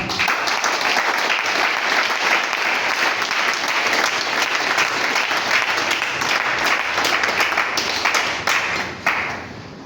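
A church congregation applauds continuously and loudly, dense sustained clapping from a large crowd filling the space, tapering slightly near the end.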